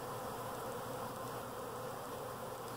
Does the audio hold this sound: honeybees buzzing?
yes